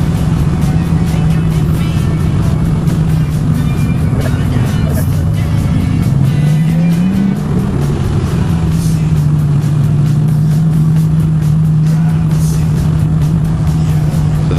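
A V8 Supercar roars down Conrod Straight at Bathurst, reaching about 295 km/h, its engine a loud sustained drone that rises in pitch midway then settles back, close and continuous throughout.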